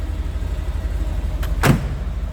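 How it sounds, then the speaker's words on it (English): Vacuum-actuated headlight buckets popping up on a 1970 Chevrolet Corvette convertible with a 454 engine, two quick mechanical clunks close by over a steady low idle rumble. "Headlight buckets do go up just fine. I'm going to pop those up so you can see it. I believe they are still vacuum actuated."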